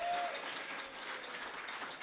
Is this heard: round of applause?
yes